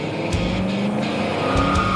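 Tires squeal and skid as a pro street car does a burnout at a burnout contest, steady loud engine roar with rubber screech throughout, two brief sharper bursts near the end.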